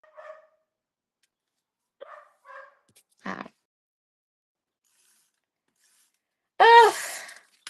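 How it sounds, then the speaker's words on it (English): A few short dog barks come from a distance, spaced apart in a quiet setting, followed by one louder, closer bark or yelp. "you guys can just hear the dogs barking"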